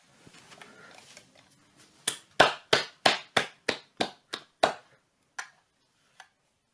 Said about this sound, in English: clap your hands for the wonderful meditation we have done today